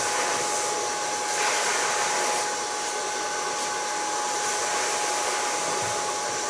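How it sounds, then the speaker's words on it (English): A blow dryer runs steadily at close range for several seconds, a loud even whoosh with small shifts in pitch and airflow as it shapes hair extensions during a pixie-cut styling session. "First thing I do is I take my blow dryer and make also the same curve into the extensions."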